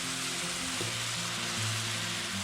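Morel mushrooms simmer in a pan of heavy cream sauce, giving a steady, close, even sizzle and bubbling hiss throughout with no talking.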